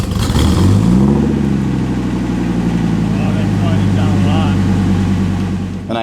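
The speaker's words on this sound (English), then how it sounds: "with the new exhaust, she sounds pretty damn good." A motorhome engine fitted with a new exhaust revs briefly, then settles into a loud, deep, rumbling idle close by.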